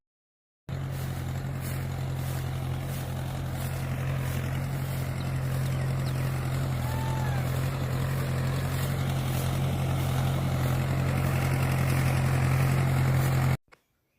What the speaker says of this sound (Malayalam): എന്തേനാ അവിടെ ട്രാക്ടർ പൂട്ടാണ്. പാടത്ത് പൂട്ടാണ് ഇപ്പോൾ ഞാറ് നടാനായിട്ടേ.